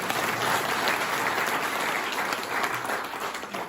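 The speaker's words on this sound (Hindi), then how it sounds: "ताली बजाओ।" An audience claps steadily through a motivational training talk, a dense, continuous wash of applause that stays loud and even throughout, with no speech over it.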